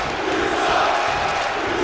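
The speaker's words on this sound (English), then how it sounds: "And this crowd not happy with that whatsoever." Wrestling video game crowd noise, a steady broad roar of many voices at an arena show, loud and continuous throughout with no clear cheering peaks.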